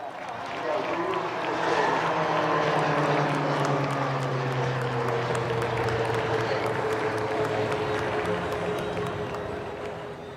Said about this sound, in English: is the HTT-40 aircraft for the first time ever in an aerial display